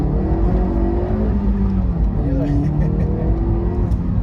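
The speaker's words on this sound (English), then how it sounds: "So start off, first gear start, try to get straight here." A Honda CR-Z HPD Edition pulls away from a first gear start, its engine droning and rising steadily in pitch, loud and continuous from inside the cabin.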